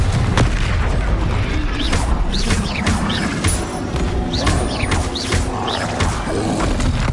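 Confringo, an explosive spell, is cast in the video game Hogwarts Legacy, producing loud, dense booming crashes and rumbling impacts that run continuously with bright chirping effects layered on top.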